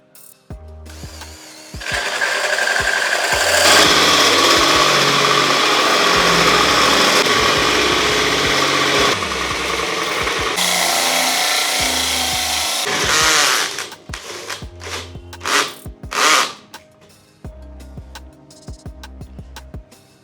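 An adjustable hole punch tool bores a hole through wood, a steady loud grinding drone running for about eleven seconds, then breaking into short bursts and scraping knocks as the cut finishes.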